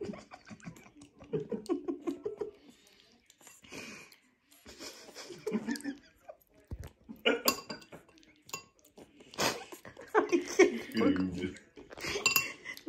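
A pet pig feeding itself with a spoon, metal clinking and scraping against a dish in scattered bursts, with snuffling and wheezy breaths between, while someone talks nearby.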